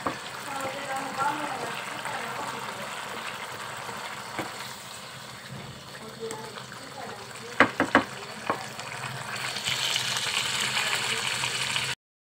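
Chicken and yogurt cook in a pan while a spoon scrapes the sides, with a soft continuous sizzle, a few sharp clacks of utensil against metal near the middle, and a stronger hiss toward the end.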